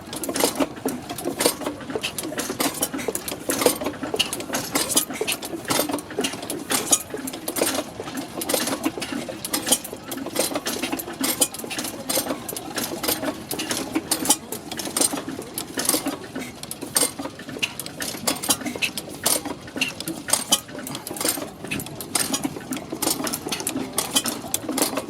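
Early 20th-century Canadian stationary farm engine running after a cold start, a rapid rhythmic mechanical clatter and tapping, loud and close, steady throughout with no talk.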